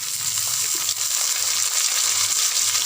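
Green chillies added to onions frying in a pan for a carrot curry, giving a steady, loud, hissing sizzle that holds evenly throughout, close to the pan with no talk.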